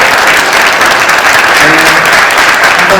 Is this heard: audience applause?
yes